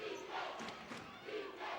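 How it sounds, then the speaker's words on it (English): Home crowd cheering at an NAIA college basketball game, a steady roar of voices swelling and dipping, moderately loud and heard from the broadcast position. "The home crowd, finally something to cheer about here in this second half."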